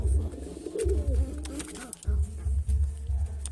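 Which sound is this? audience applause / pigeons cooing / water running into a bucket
pigeons cooing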